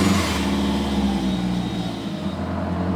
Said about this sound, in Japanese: あとはもうスタートボタンを押していただければ、エンジン上がります